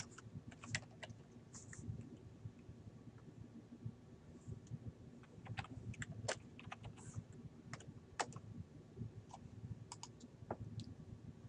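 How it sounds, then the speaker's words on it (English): Quick, irregular clicks of computer keyboard typing while entering entity details in command-and-control software, close and fairly quiet over a steady low hum. "typing in the location and the name of the entity"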